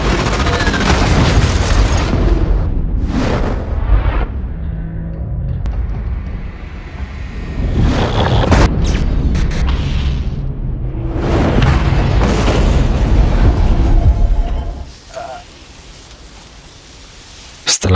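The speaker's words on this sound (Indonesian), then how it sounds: "Kereta menabrak batas dan keluar jalur hingga berantakan." A train crashes into a buffer and derails, a loud, sustained crash with heavy rumbling and booming impacts that surge and fade, ending in a sudden sharp hit.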